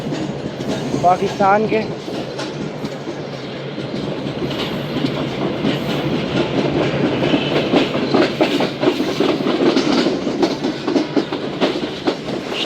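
Shalimar Express passenger train on an inaugural run in Pakistan, rolling steadily along the rails with continuous clickety-clack and rumble throughout, a brief horn-like tone early on and someone speaking briefly over it.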